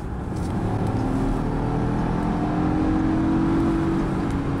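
A 2021 Volvo XC40 T5 Recharge plug-in hybrid accelerates on kickdown, a steady, close engine hum and road roar that rises slightly as it pulls, with no talking over it.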